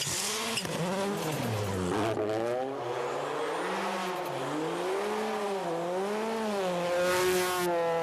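A Skoda Fabia World Rally car drives past with a revving engine note that climbs and falls through gear changes, loud and sustained, with brief tire noise.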